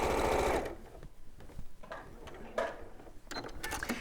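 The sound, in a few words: sewing machine stitching fabric corner to corner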